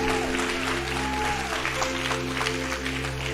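A congregation applauds during a church service, a steady wash of clapping over a sustained low organ or keyboard drone, with a faint voice now and then.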